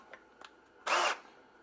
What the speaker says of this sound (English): So chuck that up in the drill and I'll show you what this does.